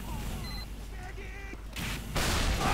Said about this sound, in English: I think somebody's shooting it, aren't they?